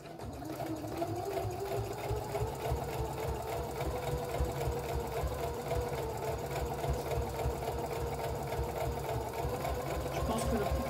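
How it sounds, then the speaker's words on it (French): A sewing machine stitches the sides of a fabric pie bag, a close, steady mechanical whir with rapid needle rhythm that runs continuously, while people talk over it. "On va venir coudre les deux côtés."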